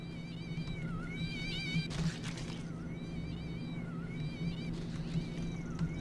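Cats meow repeatedly in the video game Postal 2, several wavering high-pitched calls in quick succession over a low rumbling background, fairly faint overall with a couple of noisy bursts between them.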